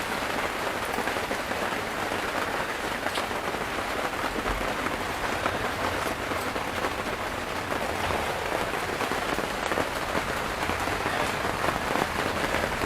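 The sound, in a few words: rain falling outside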